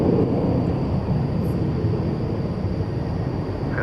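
Airbus A300 airliner at DFW Airport at night, a steady distant jet engine rumble and hiss that holds evenly, with no other distinct sounds.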